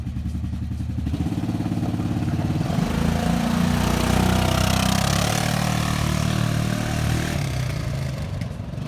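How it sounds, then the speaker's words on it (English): V-twin engine idling steadily after a timing chain repair, an even rapid chugging close by that rises slightly in pace after a few seconds and keeps running smoothly. "Ilyuka, fire it up. Runs quietly, cleanly"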